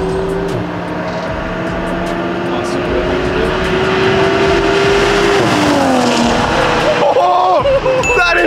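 Engines of a 2022 Subaru WRX and a Toyota A90 Supra roaring through a rolling race, rising engine pitch with a gear-change drop and climb, loud and close, with voices talking over it.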